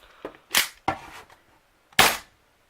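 Three sharp spring-powered snaps from a Hi Capa airsoft pistol fitted with a 3D-printed slide being dry fired with no BB chambered, two close together then a pause before the third, loud and close with no talking.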